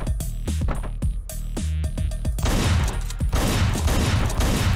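A rapid series of loud, sharp video-game gunshots cracks out in quick succession and then gives way to a dense, continuous barrage of fire, with no voices over it.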